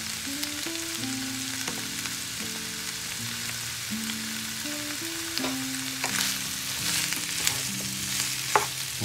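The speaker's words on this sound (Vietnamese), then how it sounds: "Rồi các bạn xào ha, xào đều lên cho nó thơm, nó thấm với lại cái tỏi, tỏi với hành mà mình phi đó" Bamboo shoots are stir-fried with fried garlic and shallots for braised roast pork trotters, giving a steady, close sizzle with occasional clinks of the stirring utensil over soft background music.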